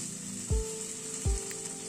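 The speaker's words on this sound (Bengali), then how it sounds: "আবার ওই মিনিট দুয়েক মতো কষিয়ে নিলাম মশলার সাথে" Spices sizzle steadily in a hot pan while being sautéed for matar paneer, a constant close frying hiss broken by two soft knocks of stirring, with no voices.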